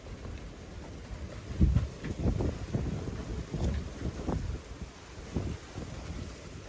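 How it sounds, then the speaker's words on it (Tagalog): Strong wind buffets the microphone in continuous rough gusts, a loud rumbling roar with bursts of heavier blasts and no voices. "lakas talaga ng hangin sa likod grabe lakas ng hangin"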